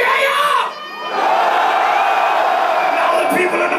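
A metal concert crowd at a show in Toulouse screams and roars loudly and continuously, with a brief dip near the start before the massed yelling swells back to full volume.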